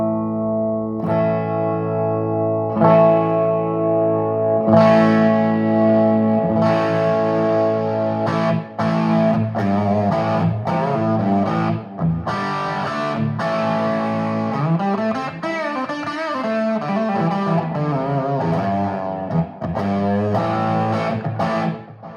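Electric guitar through a 1972 Marshall JMP 50-watt amplifier with new old stock preamp tubes, attenuated: loud, distorted sustained chords and bending lead runs played continuously with a heavy, bass-rich tone and no talking.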